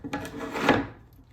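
Wooden boards for a new tabletop on an IKEA dresser slide against one another into place, a short rubbing, rasping scrape of wood on wood that swells in the middle and then fades.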